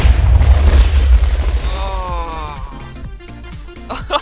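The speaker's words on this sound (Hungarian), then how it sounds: "jó nagyot robban" A bomb detonates in a blocky video game with a loud, deep boom that rolls into crackling debris and fading rumble, followed by scattered small pops.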